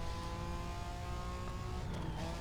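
Car driven in Need for Speed: Most Wanted with mod vehicles such as an M1 Procar, a steady engine whine with tire and road noise, fairly faint and continuous.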